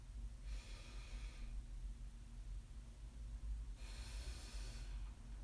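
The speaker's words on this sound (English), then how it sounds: "take some breaths here, really filling your belly or your chest up and fully exhaling all that air out" Two slow, deep breaths during a breath work session, each a soft airy rush lasting about a second, faint and close with quiet pauses between.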